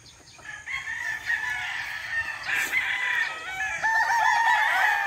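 Several Boston Sweater gamefowl roosters crow loudly and close, their drawn-out cock-a-doodle-doo calls overlapping with some clucking and no talking.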